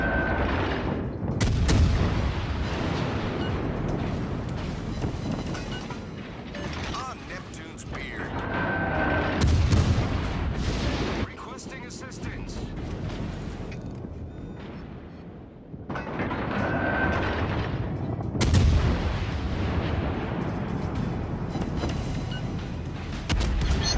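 Warship guns fire in the console game World of Warships: Legends, aboard the USS Albany, with a few heavy booming salvos and rumbling blasts spread across the stretch, heard under steady game sounds while someone talks over them.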